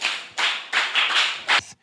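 Children clap in short rhythmic bursts at an event run by a charitable foundation, several quick rounds of close, bright clapping separated by brief pauses, with no talk over it.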